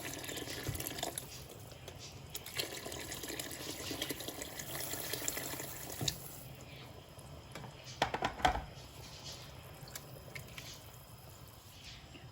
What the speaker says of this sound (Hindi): इसमें हस्बे ज़रूरत आप पानी भी इसमें डाल दें।